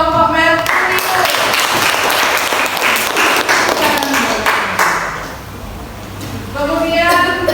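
Classroom of students clapping for a student group during a lesson, dense applause with a voice talking over it at the start and again at the end.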